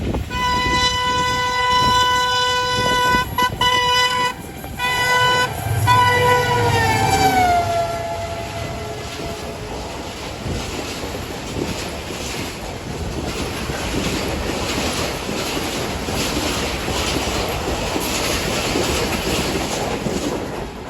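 The Allama Iqbal Express sounds its horn with long, loud blasts while passing at speed through Dabheji railway station, then the rumble and clatter of the rail cars rolls on steadily as the train goes by.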